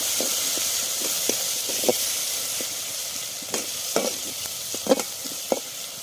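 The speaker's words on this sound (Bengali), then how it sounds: "এটাকে আবার আমি ভালো করে ভেজে নেবো তেলে।" Onion paste fries in oil in a pan for a soybean kofta curry, giving a soft continuous sizzle broken by repeated scraping stirs and small spattering pops at close range.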